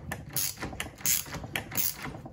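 Close, clear ratchet clicks from a hand ratchet turning in quick bursts while a car suspension spring is being removed, with short pauses between strokes.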